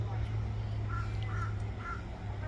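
Several short bird calls at a bird of prey centre housing hawks and eagles, fairly distant, over a steady low background rumble with voices in the area.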